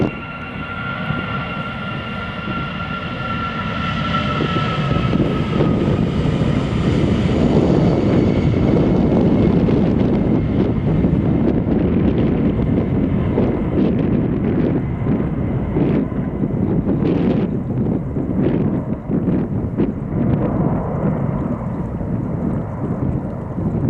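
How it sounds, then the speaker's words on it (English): Airliner in a special Irish rugby team livery taking off at Amsterdam Schiphol Airport, a loud sustained jet roar that builds and holds with heavy wind buffeting on the microphone throughout, no voices. "Irish rugby team special livery in the meantime taking off."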